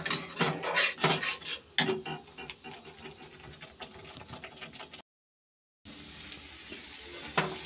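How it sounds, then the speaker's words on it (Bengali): Spices sauté in oil as they are stirred in a pan, with quick rattling scrapes of a utensil at first, then a softer steady sizzle that cuts out briefly before resuming. "মশলাটা ভালো করে এখন কষিয়ে নিই।"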